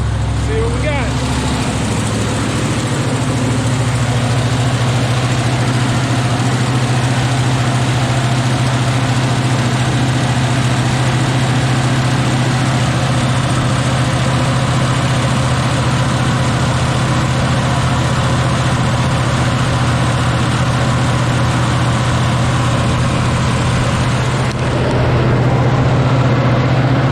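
Car engine with a Rochester Quadrajet carburetor idling steadily and loudly in a low, even rumble, holding a constant pace throughout with a slight change near the end.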